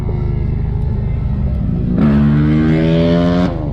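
A car engine idles steadily up close, then a loud engine note swells in and holds with strong rising harmonics for about a second and a half before cutting off, as motorcycles ride past doing wheelies.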